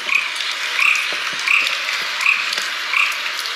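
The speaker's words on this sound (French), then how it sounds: "C'est le bruit des crapauds là qui m'énerve." Toads croaking in a steady chorus, with a nearby call repeating about every three-quarters of a second over a constant buzzing trill.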